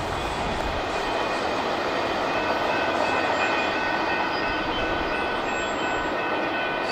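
CSX IO-17 freight train rolling past, a loud continuous rumble and roar of rail cars with a faint high squeal, steady throughout with no talk.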